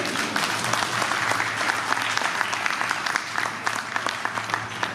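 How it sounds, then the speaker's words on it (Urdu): Audience applause at a Yorkshire Adabee Forum mushaira poetry gathering: dense, steady clapping from a sizable seated crowd, fairly even in loudness and carrying on for the full stretch without a break. "ذرا تالیاں بجا دیتے"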